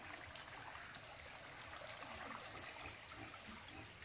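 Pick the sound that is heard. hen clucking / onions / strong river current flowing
strong river current flowing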